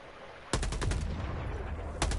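Helldivers 2 autocannon turret fires a quick volley of heavy, booming rounds, a few evenly spaced thuds followed by a pause and another short burst, loud and fairly close.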